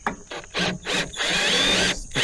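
A hand ratchet removes bolts from boat trailer bunk hardware, giving close, loud bursts of rapid clicking in several short runs with brief pauses between them.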